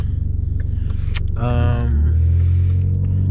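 Ford Mustang with an automatic gearbox and paddle shifters, heard from inside as engine rumble that rises in pitch, steps with a shift, then settles into a steady low drone, with a click partway through.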